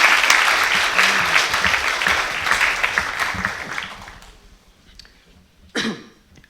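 A conference audience at a mathematics talk on democracy applauds loudly for several seconds before the clapping fades out, followed by a sharp cough or throat clearing in the quiet.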